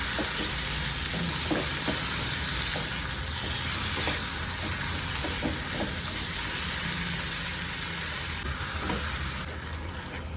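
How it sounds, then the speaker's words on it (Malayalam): Chicken curry being stirred in a pot over heat, a steady sizzling, frying hiss with soft scraping stir strokes repeating throughout, close and continuous with no talking. "ഈ പാത്രത്തിൽ കുറച്ച് നേരത്തേക്ക് ഇങ്ങനെ ഇളക്കിക്കൊണ്ടിരിക്കുക, ഒന്ന് യോജിപ്പിച്ചെടുക്കുക."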